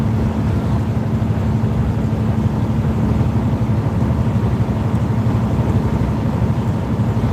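Steady low vibration buzz from the exhaust running under a truck's floor pan, a continuous droning hum heard from inside the cab with no talk over it.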